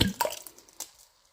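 Sauce from a jar glops into a soup pot in a home kitchen, a few soft wet splats and drips in quick succession, faint and close, fading out within a second.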